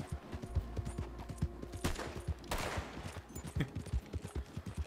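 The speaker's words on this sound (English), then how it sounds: "Firing up in the air." Rapid gunshots fired into the air in the Western game Red Dead Online, a faint, irregular volley crackling over steady horse hoofbeats while riding across the Great Plains.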